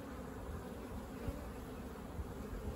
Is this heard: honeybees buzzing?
yes